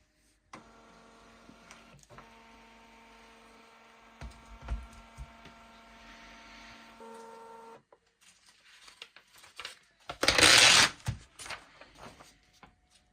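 A printer feeds paper and prints foundation paper piecing templates, with a steady mechanical whir and tonal motor hum lasting about seven seconds, followed by a few quieter clicks and a brief louder rustle of paper.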